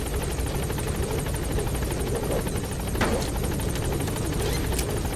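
Helicopter in Metal Gear Solid V: The Phantom Pain, a close, steady rotor thump with a rapid chopping beat and a whining engine drone throughout, alone without speech.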